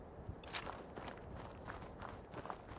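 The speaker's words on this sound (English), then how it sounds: "I think that's just your footstep, man. Your pitter patter sounds like gunfire." Regular footsteps in the video game Fallout 4 patter along at an even pace, several soft thuds over a continuous background noise.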